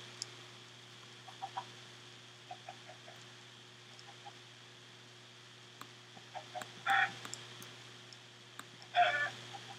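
Soft chicken clucking in Minecraft, a few brief, faint clucks scattered over a low steady hum, with two slightly louder bursts near the end.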